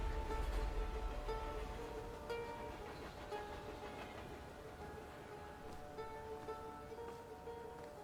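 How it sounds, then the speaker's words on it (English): Train station ambience in the video game The Thaumaturge, a steady low rumble of rail traffic with faint clanks and a constant background hum, heavier in the first second and then settling to an even level. "And here we are at the train station"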